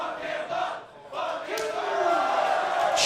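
Wrestling crowd at a Skankfest studio show shouting and cheering, a steady roar of voices that swells louder toward the end, with bright wordless yells over it.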